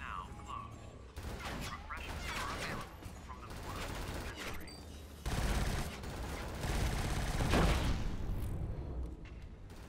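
Sustained gunfire in the video game Killzone: Shadow Fall, with bursts of rapid shots and heavy impacts stacking up over ten seconds, loud and dense, with a voice talking over parts of it.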